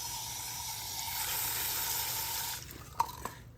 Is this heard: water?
yes